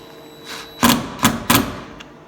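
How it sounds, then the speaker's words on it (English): Impact wrench tightening screws on a Jeep Wrangler JK, giving three loud, close bursts in quick succession after a faint lead-in buzz, ending with a small final tap. "I don't recommend using an impact,"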